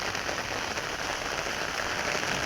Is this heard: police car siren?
no